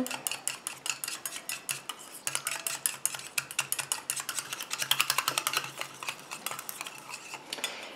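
A solid cocoa-banana conditioner mixture is stirred by hand in a bowl, rapid rhythmic scraping and clicking strokes continuing steadily for several seconds, close up and without speech.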